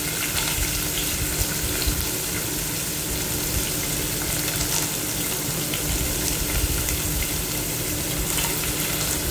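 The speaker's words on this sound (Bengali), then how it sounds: "নারকেলটা ভালো করে একটু ভেজে নেব" A generous handful of grated coconut fries in hot oil in a pan, giving a steady, dense sizzle and crackle that runs close and unbroken throughout, with no talking.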